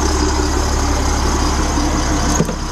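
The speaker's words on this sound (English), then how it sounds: "Oh, this thing has a really, really mean sound to it." A powerful engine idles loud and close with a deep, rough, steady rumble, holding even throughout with a brief bump near the end.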